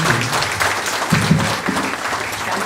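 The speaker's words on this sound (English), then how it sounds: "another rousing round of applause for all our awardees" Graduation audience at Westmorland gives a rousing round of applause for the awardees, a close, loud, continuous clapping wash filling the whole short stretch.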